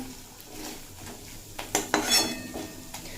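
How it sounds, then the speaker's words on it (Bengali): Ground coriander and Kashmiri chilli powder sautéing in a pan with slit green chillies, a soft background sizzle broken by a few clattering scrapes of a spoon against the pan midway through. "গুঁড়ো মশলা দিয়ে এক মিনিট মতো কষিয়ে নিয়েছি"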